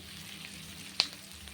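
Small potatoes and onions sizzle together in hot oil in a pan, a steady soft frying hiss with one brief sharp pop near the middle.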